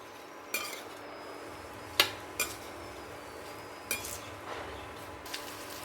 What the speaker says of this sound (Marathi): फोडणीमध्ये मिक्स करते।